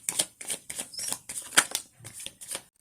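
Osho tarot cards are shuffled in a series of crisp, close riffles and slaps, about a dozen quick bursts in an uneven rhythm with short gaps between them.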